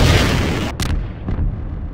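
Missiles launching in Garry's Mod: a loud, rough blast that dies away, then two short sharp bursts under a second apart, all within about two seconds and with no talk.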